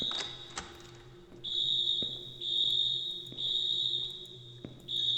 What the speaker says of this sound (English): Apparently the alarm messes with your vision, too.